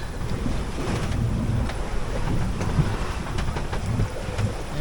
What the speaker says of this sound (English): these winds were unexpected